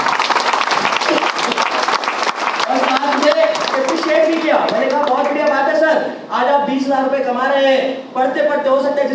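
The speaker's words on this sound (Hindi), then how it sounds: "मैंने तालियां बजा दी उनके लिए" Applause and clapping from an audience at a Hindi motivational speech event, loud and sustained, blending into crowd noise and a speaking or cheering voice as the clapping goes on.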